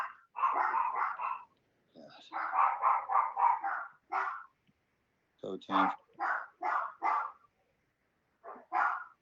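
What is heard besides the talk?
Yorkie dogs barking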